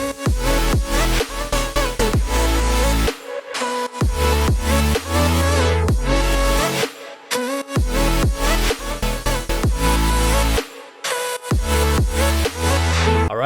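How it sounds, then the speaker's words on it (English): Future bass vocal chops: dense electronic music with pitched, stuttering chopped-vocal stabs and heavy bass, loud and continuous with a few brief rhythmic dropouts, no talking over it. "how to make vocal chops to sound like this"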